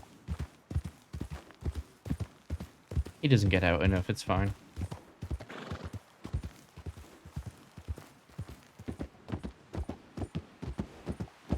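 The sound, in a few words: horse hooves and neigh in video game (WildRP)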